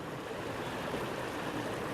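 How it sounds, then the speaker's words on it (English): Steady rushing of a stream flowing right beside a campsite in Scotland, a constant close wash of water with no voices. "I have got water running right next to it."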